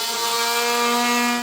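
An oscillating multi-tool cuts into plastic bumper trim on a 2018 Jeep JK Wrangler, a steady, buzzing whine with a strong fixed pitch, close and unbroken for a short burst.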